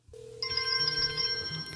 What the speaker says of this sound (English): it comes with ringtone, like I said,